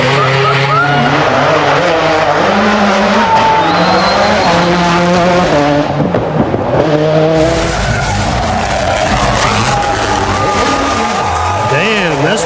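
Rally race cars skid through a turn, engines roaring loud and revving up and down while tires squeal across the surface.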